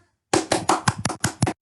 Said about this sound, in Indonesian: mau buat suara kayak tepuk tangan sebagai sound effect kalian